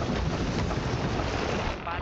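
A storm at sea in the pirate video game Sea of Thieves, with a ship caught in it: a loud, dense roar of wind and crashing water that sounds close and continuous, with no clear speech.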